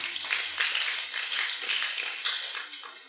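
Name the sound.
congregation clapping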